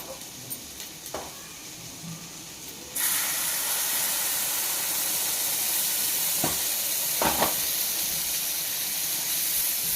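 Powder fries in ghee for a white sauce: after a quiet start, a loud, steady sizzle and hiss begins abruptly and continues, broken by a few stirring knocks.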